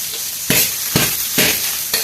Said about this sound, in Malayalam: 2 സ്പൂണ് നെയ്യിട്ട് നമ്മൾ അരി ഒന്ന് വറുക്കാൻ പോകണം കേട്ടോ.